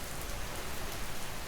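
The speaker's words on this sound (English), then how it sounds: "You might hear the rain outside" Steady rain falls outside, a soft, continuous broadband hiss with no breaks and no voices.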